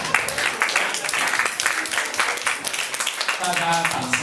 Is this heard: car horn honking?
no